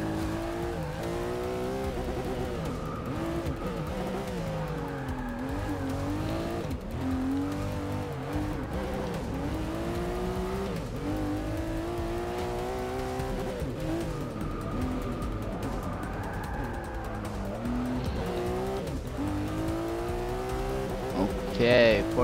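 Race car drifting in Forza 6, with a continuous revving engine and rising, falling pitch sweeps, plus intermittent tire squeal through the corners.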